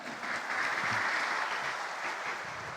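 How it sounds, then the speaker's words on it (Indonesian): Steady, dense audience applause fills a mosque lecture hall, a continuous wash of many hands clapping at even loudness with no voices on top. "Bangun, berikan tepuk tangannya."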